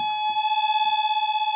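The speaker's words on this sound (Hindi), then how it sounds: "दूसरी प्रॉब्लम वाइब्रेटिंग होना, बबलिंग की आवाज़ आना रीड से" Harmonium reed giving a steady, sustained buzzing tone with a strong fundamental and many bright overtones, holding level throughout with a slight pulsing vibration, close and clear with no talk.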